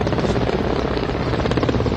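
A helicopter flies over a war memorial during a Kargil Vijay Diwas tribute, showering flower petals; its rotor drone is loud, close and continuous, with steady rhythmic chopping throughout.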